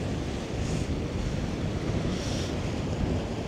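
Sea waves washing against the rocky shore at Neck Point, Nanaimo, on Vancouver Island, a steady broad roar of surf mixed with wind buffeting the microphone, with no voices.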